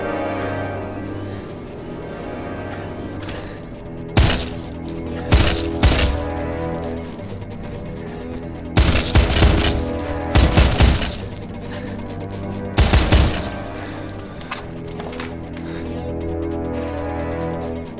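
Gunfire in a Wanted: Weapons of Fate cutscene: several sharp, loud bursts of shots in clusters over a droning low musical bed, with metallic ringing tails and casings tinkling between volleys.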